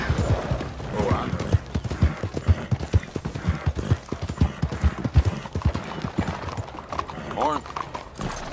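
Horse hooves clip-clopping steadily in Red Dead Redemption 2, a close rhythmic walking gait with a brief whinny near the end, under occasional speech.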